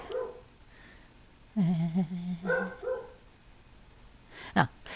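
A dog gives a short burst of several close yips and barks, then a single sharp yelp after a pause, over quiet background hiss.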